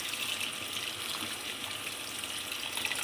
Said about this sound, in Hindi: लेकिन मैं 1 गिलास पानी डालूँगी